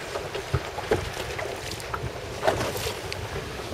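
Gusty wind buffeting the microphone aboard an RS700 sailing dinghy during a jibing drill on Lake Garda, with broadband rushing, uneven bursts and water noise, close and fairly loud with no talking.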